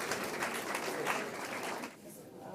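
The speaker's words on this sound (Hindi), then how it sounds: "जोरदार तालियों से सर का स्वागत कीजिए भाई" Audience at a university constitution celebration applauding to welcome a guest, steady massed clapping fairly distant and soft, easing off near the end.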